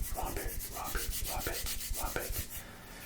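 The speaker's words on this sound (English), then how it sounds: "I take the battery out and just rub it" Repeated rubbing strokes on a remote control battery, a steady back-and-forth scrubbing rhythm of about five close, soft passes with no talking.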